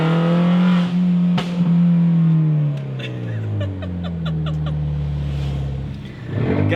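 A car driven after its fault codes were repaired. The engine hums steadily from close by inside the vehicle, revving and shifting as the pitch climbs and drops, with brief ticking clicks in the middle.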